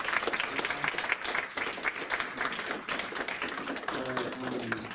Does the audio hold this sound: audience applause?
yes